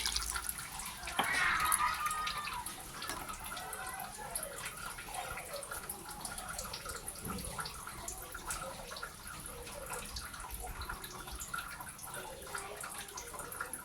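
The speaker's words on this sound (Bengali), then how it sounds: "এখন আমি জল দিয়ে দিচ্ছি।" Water is poured into a pan of pabda fish curry with ridge gourd. A short splash comes first, then a low, steady wet bubbling and dripping, all fairly faint.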